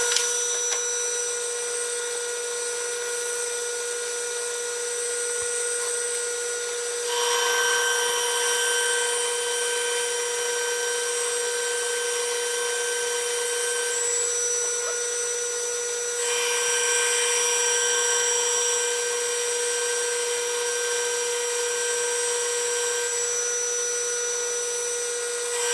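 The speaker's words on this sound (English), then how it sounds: "Actually, I guess I center drilled it first." A metal lathe center drills a 2 inch steel bar being machined into a mini excavator pin, a loud steady whine with sharp machining tones that shift in intensity partway through, running alone without talk.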